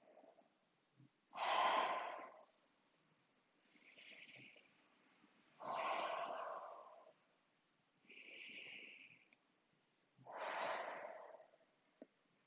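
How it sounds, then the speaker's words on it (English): Slow, deliberate breaths exhaled through the mouth during a calming yin yoga session, five soft whooshing breaths spaced a few seconds apart, close and quiet with no talking. "3 more exhales out of your mouth"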